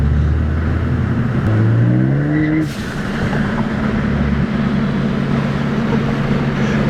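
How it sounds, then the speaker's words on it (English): A loud turbocharged Ford Focus ST engine revs up close, then a sharp hissing whoosh of a blow-off valve as the throttle lifts, followed by steady engine rumble. "That blow off is ridiculous."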